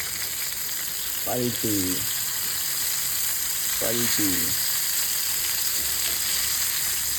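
Bombil fish coated in flour and rava fry in hot oil with a steady, dense sizzle, while a voice speaks briefly twice over the frying.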